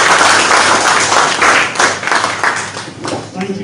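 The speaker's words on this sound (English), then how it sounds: "Another round of applause for our students." Enthusiastic applause from a crowd at a handover ceremony for donated medical items, dense clapping that swells and fades, with a few voices mixed in beneath.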